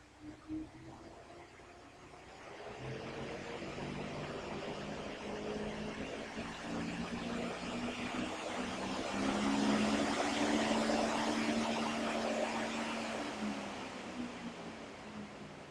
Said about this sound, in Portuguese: vocês vão ver agora aí que vai aumentar a velocidade do motor